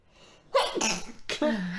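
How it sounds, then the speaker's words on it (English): Person sneezing twice in quick succession, a sharp loud burst followed by a second strangled, held-in sneeze, close up with a faint breath before. "Oh, I gotta sneeze."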